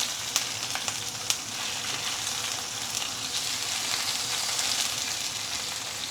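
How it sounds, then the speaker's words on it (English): Fish pan-frying in a pan for a milky fish soup gives a loud, steady, close sizzle with a few faint crackling pops, continuous throughout and with no talk. "we're going to pan fry the fish for a couple of minutes"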